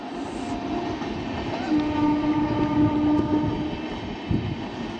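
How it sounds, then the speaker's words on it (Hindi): Train passing close by, a loud steady rumble and rattle of wagons with a sustained horn blast partway through, no talking. "आप सब ट्रेन के देखनी"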